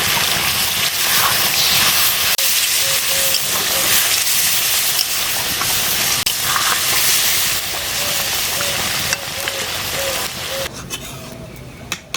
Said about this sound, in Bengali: মাংস আমার কষানো হয়ে গেছে, আমি এখন জল দিয়ে দিচ্ছি।